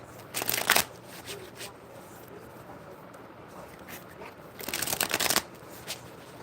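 A deck of cards shuffled for a card reading in two quick riffling bursts separated by a quiet pause, close and crisp against soft background hiss with faint talking.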